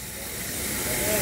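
Steady spray of oil hissing onto a Yanmar 4T98 turbo engine, a continuous close broadband hiss that swells slightly louder toward the end.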